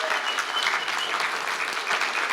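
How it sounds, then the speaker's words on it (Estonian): An audience at a youth folk heritage festival's main concert claps together in a dense, steady wash of applause that is close and sustained throughout. "kõik plaksutavad"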